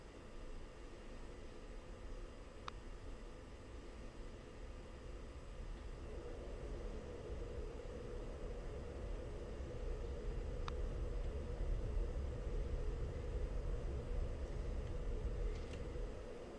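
An F-16 in the Falcon BMS flight simulator rolls down the runway for takeoff, a steady broad engine roar with low rumble that builds slightly over about seventeen seconds, continuous and alone.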